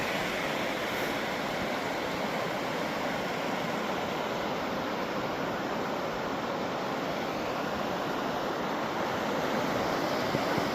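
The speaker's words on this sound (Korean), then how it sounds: "야 물소리가 아주 장관입니다" Rushing mountain stream at Seoraksan in autumn fog, a dense continuous roar of water, loud and steady for the whole stretch with no voices.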